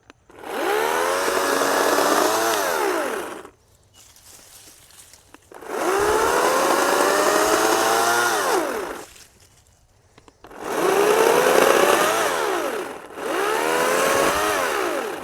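A cordless chainsaw cuts through a tree, whining in three long loud bursts with short quiet gaps, its pitch sagging and rising as the chain bites into the wood.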